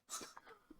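A single quick sneeze, close and fairly soft, with a breathy burst and a short trailing exhale.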